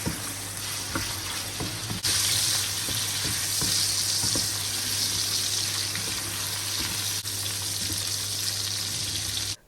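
Jumbo shrimp fry in oil in a pot, a loud, close hiss and spatter that rises sharply after a few soft clinks and then holds steady, over a low constant hum.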